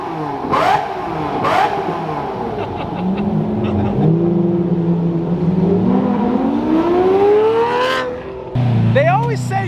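A Lamborghini V12 supercar revs hard, its engine note climbing and falling through several loud, sustained sweeps, with short sharp bursts near the start, while people talk excitedly nearby.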